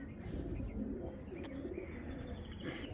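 Racing pigeons cooing softly in a loft, low murmuring coos over a dense, muffled background, faint and close.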